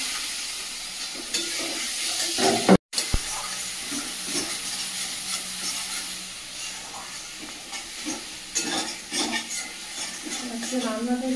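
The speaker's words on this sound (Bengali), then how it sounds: "সামান্য একটু জল দিয়ে দেবো মশলাটা ভাজার জন্য" Spice paste with Kashmiri chilli and a splash of water sizzles and steams steadily in a pan, with occasional stirring scrapes, a brief cut to silence partway, and a voice speaking over it.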